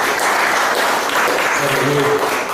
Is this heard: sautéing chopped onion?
no